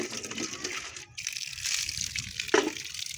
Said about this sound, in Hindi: ये पानी गर्म आ रहा है।